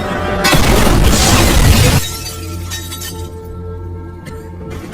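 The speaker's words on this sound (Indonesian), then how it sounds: "Hingga akhirnya, Darius berhasil meledakkan si Toro." A film explosion blasts out as a sudden loud burst with shattering, glassy debris for about two seconds, then fades into a rumbling, crackling aftermath.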